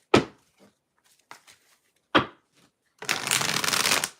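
A few soft card taps and thumps come first, then a deck of tarot cards is riffle-shuffled in one close, crisp burst lasting about a second.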